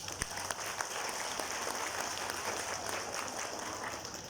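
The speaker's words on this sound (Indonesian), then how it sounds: "Tepuk tangan untuk." Audience applause at a regional organization gathering in Lampung Barat, a steady, even wash of clapping from a crowd that holds at a constant level throughout.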